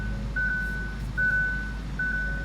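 Reverse warning chime of a 2017 Hyundai Ioniq Limited hybrid with 1.6 L four-cylinder, three evenly spaced electronic beeps heard from inside the cabin over a low steady hum.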